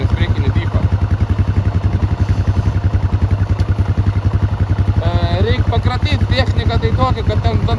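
Yamaha Grizzly 660 ATV with front differential locked, its engine thumping in a fast, steady pulsing rhythm close by while riding off-road, revving and shifting with a whine rising midway; a voice talks briefly over it.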